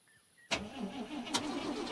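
A car engine in the VR game Ghost Giant cranks with an abrupt starter burst and then a second one, followed by a rough, sputtering mid-pitched turnover that never settles into a clean idle.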